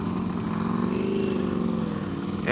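A 2016 Motus MST motorcycle engine drones steadily while riding, a smooth, continuous close-up hum with a constant tone and no speech.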